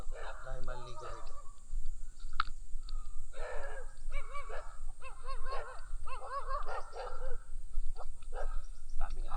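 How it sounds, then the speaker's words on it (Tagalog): Several dogs bark in short bursts, with yips and whines mixed in, over steady rushing background noise and some talking. "Daming aso."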